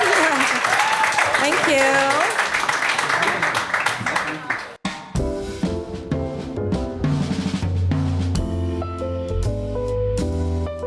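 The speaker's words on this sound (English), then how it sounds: "one more round of applause" A live audience at a networking event gives a sustained round of applause for about five seconds, with a brief spoken thanks, before music begins and carries on.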